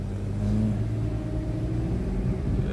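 A car engine rumbles steadily at close range as it drives up to a plot of land in Runaway Bay, Jamaica, with a low continuous hum and a slight rise in revs partway through, no talking.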